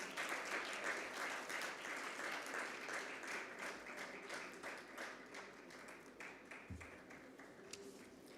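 An audience at a classical music festival concert applauds a pakhawaj player who accompanied the rudra veena: sustained, fairly distant clapping that thins and fades out gradually.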